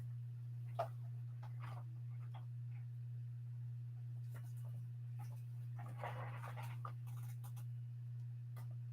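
A dog makes a few faint, scattered whines or pants over a steady electrical hum indoors, with a slightly longer burst of sound later on.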